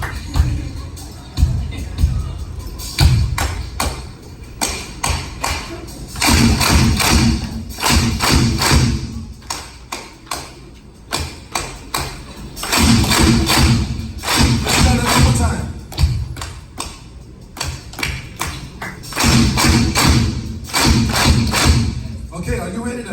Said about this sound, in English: Are you ready to learn how to clap now?